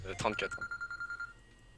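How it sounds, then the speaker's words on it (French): A mobile phone ringtone set as an alarm chimes in a fast rhythmic pattern of bright repeated beeps that fade out, starting under a brief spoken number. "Mais c'est ma sonnerie de téléphone."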